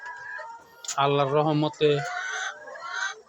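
Chickens kept in a small coop built inside a family's living room, hens already laying their first eggs, give off a few clucks and calls mixed in with someone talking nearby.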